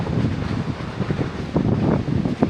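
Wind gusts roar and buffet the microphone in a rural mountain village, loud and continuous with uneven surges and no talk.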